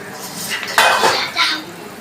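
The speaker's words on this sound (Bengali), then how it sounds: "ঢাকনাটা তুলে নেব।" A cooking pot's lid lifts off with a sharp metallic clatter and a brief scrape while rohu fish curry simmers for a wedding-style jhol, followed by a softer clink and faint kitchen background.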